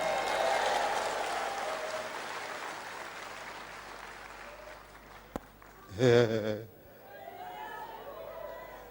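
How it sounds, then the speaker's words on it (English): Church congregation clapping together, a broad wash of applause that is loudest at first and fades over several seconds, followed by a short burst of voices and then quieter speech. "Clap your hands anyhow."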